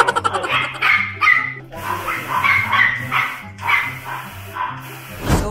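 Dogs bark and yip excitedly at feeding time, with loud, close, overlapping barks in quick irregular bursts and some whimpering between them.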